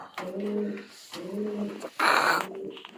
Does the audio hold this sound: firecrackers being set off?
no